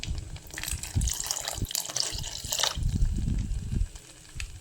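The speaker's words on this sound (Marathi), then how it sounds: "आता इथं मी दूध टाकते." Milk poured into a pot of cooking rava kheer after the jaggery has melted, a short bubbly splashing stream that runs for a few seconds and then eases off, with no talking.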